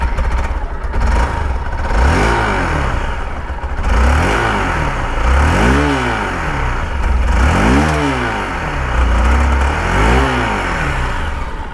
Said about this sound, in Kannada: ಈ ಗಾಡಿದು ಎಕ್ಸಾಸ್ಟ್ ನೋಟ್ ನೋಡ್ಕೊಂಬಿಡಿ ಒಂದು ಸತಿ ಹೆಂಗಿದೆ ಅಂತ